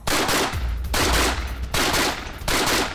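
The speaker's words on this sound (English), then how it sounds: "Mikhail Kalashnikov's rifle, the AK." An AK rifle fires 7.62x39 cartridges in three loud, close bursts of rapid automatic fire, each lasting under a second, separated by short pauses.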